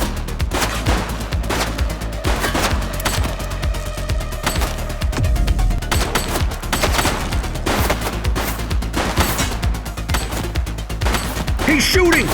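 A suspect fires a gun at police in The Precinct game, with rapid repeated shots and bursts of gunfire crackling over a dense street-combat din throughout. Voices are heard in places.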